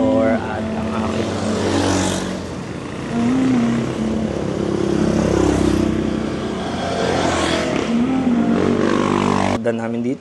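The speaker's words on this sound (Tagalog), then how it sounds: "Madaming motor" Traffic rumbles steadily on a road in a Southern Tagalog town, with motorcycle engines droning and rising as they pass close by, loud and continuous throughout.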